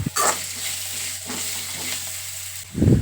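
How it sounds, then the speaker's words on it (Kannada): Onions fry in oil with salt in a steady close sizzle, stirred with a few scraping strokes over a low hum, ending in a louder burst of stirring. "ಈರುಳ್ಳಿ ಚೆನ್ನಾಗಿ ಫ್ರೈ ಆಗಬೇಕು ಎಣ್ಣೆಯಲ್ಲಿ, ಅಲ್ಲಿ ತನಕ ಫ್ರೈ ಮಾಡ್ಕೋತಾ ಇರಬೇಕು"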